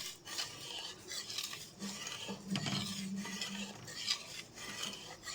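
A spatula stirs and scrapes boiling milk for rabri in a pan, giving a continuous, close, rasping scrape with light metallic clinks and a faint bubbling underneath.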